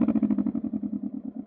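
A Can-Am Ryker 600 fitted with an RLS Controlled Kaos series exhaust idles close by, a deep, lumpy, rapidly pulsing burble that holds steady on its own.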